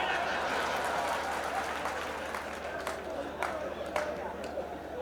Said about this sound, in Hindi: आनंद आया तो ताली बजाओ।